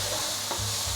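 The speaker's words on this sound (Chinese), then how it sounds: "我买的这是生腰果，所以用油炒一炒也会让它变香" Raw cashews stir-fry in hot oil in a pan, giving a brief close sizzle with a couple of scraping stirring strokes.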